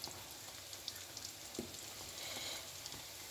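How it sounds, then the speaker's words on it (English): Fish roll frying in hot oil, a steady crackling sizzle with scattered pops and spits throughout, moderately close and continuous, with no voices. "you allow the second side to fry"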